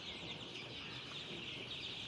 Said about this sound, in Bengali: এই টাইগার মুরগিটার বয়স হয়েছে 15 দিন